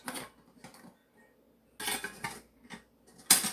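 Camping cookware set of a frying pan and two bowls clattering as the pieces nest together, several separate bursts of metallic clinks and knocks close by, with quiet gaps between them.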